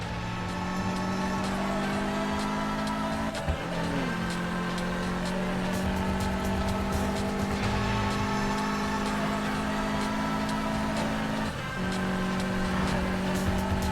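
Car racing in the video game Need for Speed Payback: a loud sustained engine drone with steady harmonic tones, briefly dropping as gears shift around 3.5 and 11.5 seconds, with faint tire noise and no talking.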